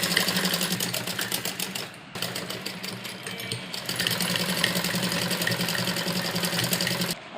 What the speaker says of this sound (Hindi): सीधी सिलाई हम इस तरह से यहाँ पर लाकर लगाएंगे